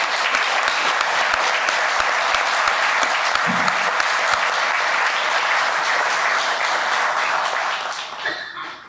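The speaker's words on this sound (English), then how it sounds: "let's give them a round of applause" A room full of people applauds the mentors of a veterans treatment court during a graduation and tenth anniversary celebration, sustained dense clapping that fades near the end.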